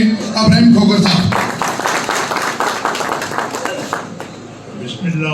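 A crowd at a political rally in Islamabad applauds to welcome the host, steady clapping building early and fading out toward the end, with a voice speaking over it on a PA.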